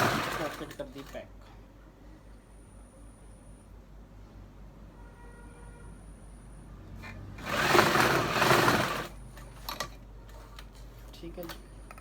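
A sewing machine stitching the side seam over a pant pocket runs in one loud, close burst of rapid whirring after a quieter stretch, with people talking around it.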